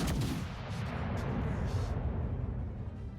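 Heavy naval turret fire from warships in World of Warships Legends, a sustained rumbling boom with a sharp opening blast and long low roll, loud and continuous without talk.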